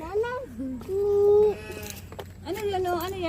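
A goat bleats several times up close at a wildlife park in Albay, the wavering cries coming in short bursts with a longer call in the middle, while people talk nearby.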